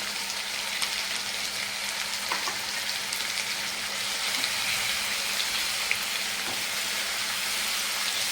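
Ginger and onion paste frying in a pan, a steady broadband hiss and sizzle running unbroken throughout at moderate level, with a few faint clicks and no voices.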